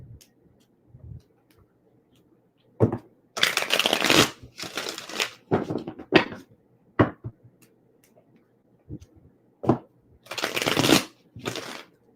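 Tarot cards are shuffled in several separate bursts of riffling and sliding, separated by quiet gaps, close and fairly loud with no talking.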